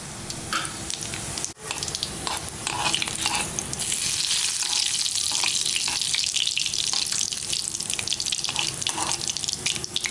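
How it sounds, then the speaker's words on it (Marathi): Cumin seeds fry in hot oil in a kadhai with a dense, loud, continuous sizzle that swells after a brief break near the start and stays steady and close. "आपण तेल टाकून घेऊया आपण तेलात जिरे टाकून घेऊया"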